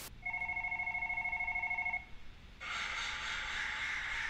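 A telephone rings in repeated electronic trills inside a horror video game, steady for about two seconds, followed by a harsher buzzing tone, fairly quiet with no talk over it.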